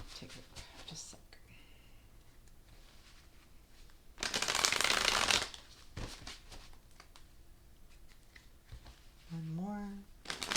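Runic Tarot cards shuffled in a loud, dense burst of riffling for about a second, with softer card handling and light rustles before and after, and a brief voice-like sound near the end.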